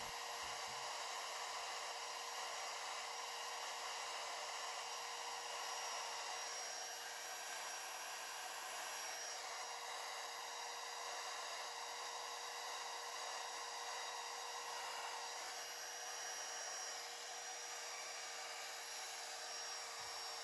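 An electric air pump inflating a tube pool float runs as a steady, unbroken high-pitched whirring hiss, constant throughout at a moderate distance.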